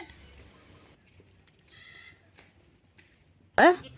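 Goat kids bleat in short, wavering cries: one call early on, a softer one in the middle, and a sharp, loud bleat near the end, with quiet pauses between.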